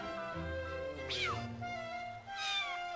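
A video game cat from The Adventures of Elliot gives two rising, whiny meows, the first near the middle and the second at the end, over steady game music.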